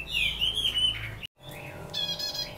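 Songbirds chirping in quick, high tweets and short trills, fairly close and steady, with a brief silent break partway through before the calls resume. They are finches being kept and conditioned for singing contests.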